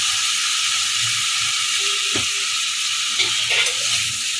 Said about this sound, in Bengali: এই যে তেল ছেড়ে দিয়েছে, এখন আমি এর মধ্যে আলুগুলো দিয়ে দেবো